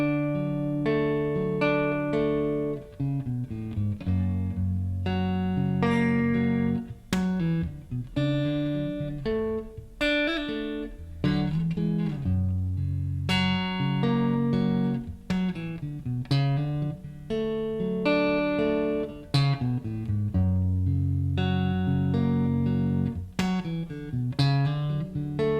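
Electric guitar plays the fiddly intro part of a song, a steady stream of plucked chord shapes and single notes ringing close and clear for the whole stretch, with no talking.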